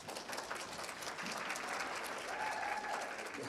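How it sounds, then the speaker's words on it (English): Steady audience applause fills the room at a veterinary lecture as a speaker is welcomed, a continuous dense clapping with a few cheers, fairly loud and unbroken throughout. "I've got a cheering section back there."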